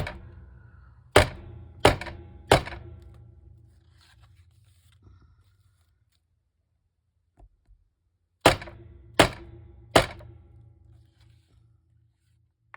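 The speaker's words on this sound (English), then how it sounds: "I think I'm going to hit those with the hammer." Two bursts of three sharp upholstery hammer taps flattening brads, each a quick ringing strike, separated by several seconds of near silence.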